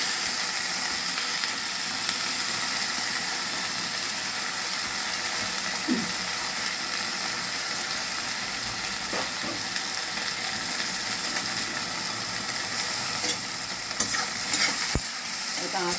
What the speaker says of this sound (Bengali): জোরে এটাকে আগে ভাজা হবে